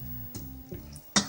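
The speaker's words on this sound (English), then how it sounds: "I'm frying it up once again, added some more water as usual, just so that it doesn't get burnt" Garlic and onions frying in a pan with a splash of water, the base for a pasta fagioli soup, giving a low steady sizzle broken by a few sharp stirring clicks and scrapes.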